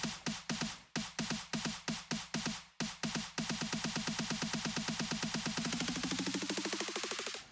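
Short, pitched snare hits repeat in a fast pattern, then roll into a rapid stream of quick strikes that rises in pitch toward the end.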